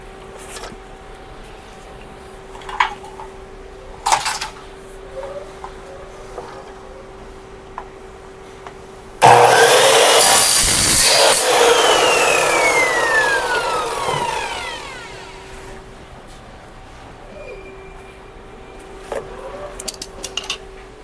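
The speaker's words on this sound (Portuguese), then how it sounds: "Feita a marcação, agora vamos cortar o trilho." A power saw cuts through a motorized curtain rail of a smart curtain: after scattered light clicks and handling noises, a loud, harsh whine bursts in and holds for about five seconds, then fades as the blade winds down, followed by quieter handling sounds.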